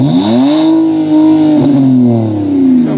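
A BMW 525i engine is revved hard, climbing quickly to a loud, steady high-rpm drone with a smooth tone, held for a couple of seconds before easing off slightly, very close and loud with no voices over it.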